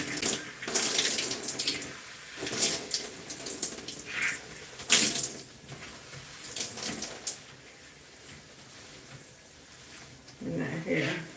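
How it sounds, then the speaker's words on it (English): Running water rinsing shampoo out of curly hair in a sink or shower, splashing unevenly and close while a person talks over it. "we're opening up the hair to get that shampoo rinsed out"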